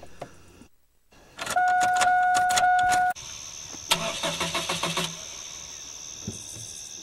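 A truck engine cranks with a loud, sustained starter whine, cuts off, then sputters through a rapid series of uneven chugs without catching, with no talk.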